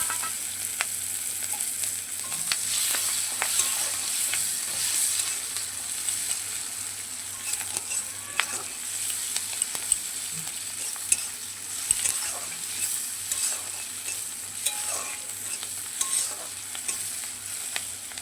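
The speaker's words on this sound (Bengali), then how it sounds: "পেঁয়াজটাকে একটু লাল করে ভেজে নিচ্ছি।" Cumin and onions frying and being stirred in a pan, a steady close sizzle with scraping stir sounds throughout and no talk.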